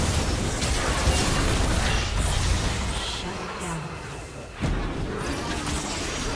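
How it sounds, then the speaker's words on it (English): A turret blown up in League of Legends, a bursting crash of game effects over busy battle noise, with a sharp impact near the end and an announcer voice. "Red team's turret has been destroyed."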